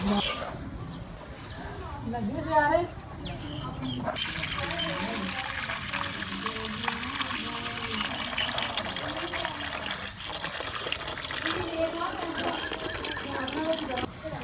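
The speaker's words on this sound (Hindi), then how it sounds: "अब हम इस मेथी को अच्छी तरह पानी से एक दफ़ा धो लेंगे" Fresh fenugreek (methi) leaves are washed in a bowl of water, with sloshing and trickling splashes running throughout while a voice talks over the first few seconds.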